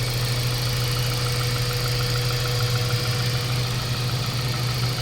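A Mazda 3 with a 1.6 engine idles after a vibration repair, giving a steady, even mid-pitched hum with a faint rattly texture, recorded close with no talk.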